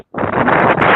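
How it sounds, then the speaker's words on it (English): Strong outdoor wind buffets a microphone on a windy day, a loud, dense, continuous rumbling roar that starts abruptly after a brief silence and keeps blasting through with no voice over it. "I was on mute because it's windy out here"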